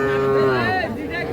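A young bull calf at a crowded calf market in Ambari gives one close, drawn-out moo that slides in pitch, with faint crowd noise behind it.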